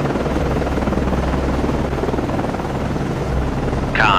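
An anti-submarine warfare helicopter flies in the naval combat game Cold Waters, launched from the Perry-class frigate USS Nicholas FFG-47. A steady, droning rotor rumble runs unbroken throughout, and a brief higher-pitched tone rises near the end.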